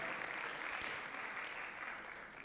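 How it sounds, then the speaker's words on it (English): Sustained applause from an audience at a university debate championship, a dense, even patter of many clapping hands heard from a distance and fading a little near the end. "Keep clapping for them."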